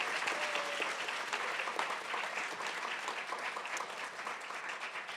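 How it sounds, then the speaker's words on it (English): Audience applause for a panel at the close of a live public event, a steady, dense burst of clapping from a seated crowd lasting several seconds with no talk over it. "Let's have a round of applause for the panelists."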